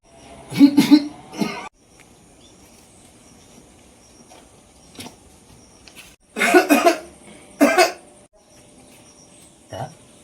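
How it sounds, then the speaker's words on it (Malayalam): A man coughs in bursts, one fit near the start and a stronger double fit later, close and loud over a quiet background with a faint steady insect-like hum. "തിരുമേനിക്ക് നല്ല ചുമയുണ്ടല്ല."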